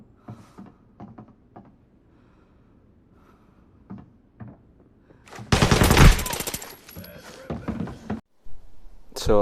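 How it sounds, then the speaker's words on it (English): Close, intense burst of gunfire in an Arena Breakout PvP fight on the Farm map, a dense volley of shots lasting a few seconds with scattered thuds and quieter shots before and after; faint talk is heard early on. "That wasn't as basic of a gunfight as you might think."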